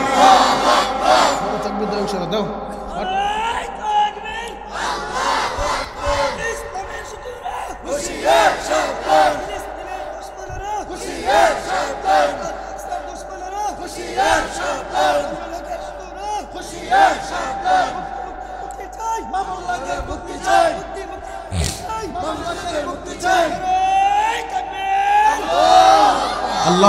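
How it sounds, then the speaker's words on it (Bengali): Crowd at a Bangla waz sermon chanting together in loud, repeated collective shouts, rising and falling in rhythmic bursts with a preacher's voice leading between them. "সবাই জবান খুলে তাকবীরের আওয়াজ দিবেন"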